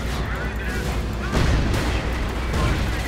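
A creeping artillery barrage in a Hill 331 battle game rumbles as a dense, continuous wash of booms and blasts, loud and steady for the whole stretch, with no clear gaps between impacts.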